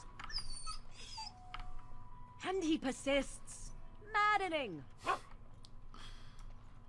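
In Dragon Age: Origins, a dog whimpers and gives a few whining, yelping barks in short bursts over quiet game ambience, with a character's voice speaking briefly.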